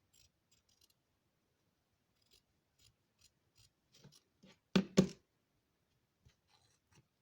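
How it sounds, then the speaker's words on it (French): Scissors snip through paper while a junk journal embellishment is trimmed, a pair of sharp, close cuts standing out after quiet rustles and small handling clicks. "Je vais couper."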